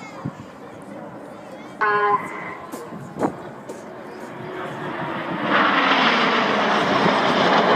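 Red Arrows aerobatic jets fly overhead trailing diesel-fuelled smoke, their engine roar building from a distant rumble to a loud, broad rushing sweep, with brief tonal beeps and short bursts of other sounds early on.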